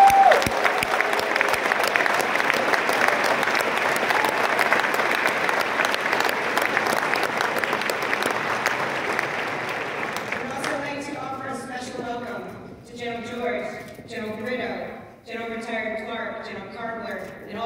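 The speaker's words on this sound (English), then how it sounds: "Please all join me in a round of applause for all the members of the Eastman class of 1974 here with us tonight." Audience at the West Point Branch Night for the Class of 2024 gives a long round of applause for the Class of 1974, steady and dense for about ten seconds, then dying away under a speaker's voice.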